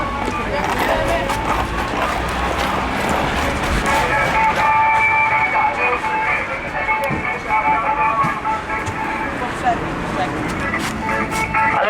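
Inside a rumbling tram with a steady rolling drone and faint squeals, while people talk over the noise.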